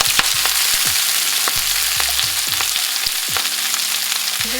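Wet collard greens fry in olive oil in a hot skillet, giving a loud continuous sizzle and crackle with scraping stir strokes throughout.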